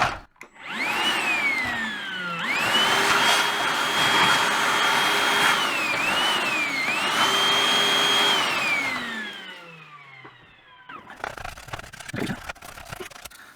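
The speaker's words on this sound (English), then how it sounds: "Right, I'll quickly hoover this bit up." A vacuum cleaner hoovers dust out of a dead PlayStation 4 undergoing repair, its motor whining steadily for about ten seconds with pitch shifts as the nozzle moves, then cutting off, followed by faint clicks and handling noises.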